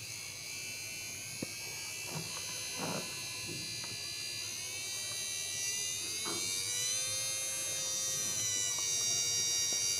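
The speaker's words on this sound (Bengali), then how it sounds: "এখন দেখতে পাচ্ছেন মোটরটি খুবই আস্তে ঘুরছে" A small 12 V DC motor runs on an adjustable power supply, giving a thin electric whine and buzz whose pitch creeps gradually upward as the voltage rises, steady and close with faint handling clicks.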